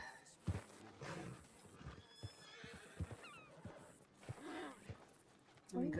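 Horse in the video game Red Dead Redemption 2 gives a shrill neigh and a snort, with clip-clop hooves, amid scattered game sounds and brief speech.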